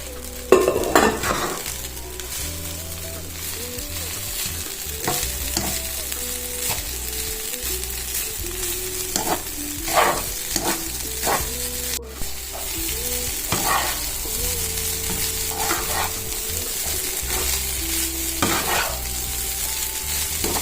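A spatula scrapes and stirs rice fried with two eggs and carrot in a hot pan, with a constant soft sizzle and recurring metallic clinks and scrapes throughout, no voices.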